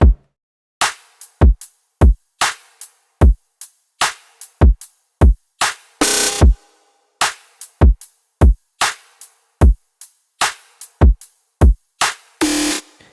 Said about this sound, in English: The drums by themselves, they sound like this.